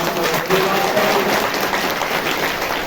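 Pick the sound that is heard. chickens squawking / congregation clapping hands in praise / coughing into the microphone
congregation clapping hands in praise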